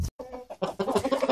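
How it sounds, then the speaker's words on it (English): White Plymouth Rock chickens cluck in a short series of close, busy calls after a brief gap, several birds overlapping with no voices present. "there's all different varieties of chickens. These white ones are Plymouth White Rocks."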